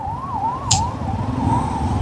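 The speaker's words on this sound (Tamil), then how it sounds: "இதில் ஆம்புலன்ஸ் வேறு வருதா?" An ambulance siren on the road during a solo ride, wailing steadily up and down over constant road and traffic rumble, fairly close and loud throughout.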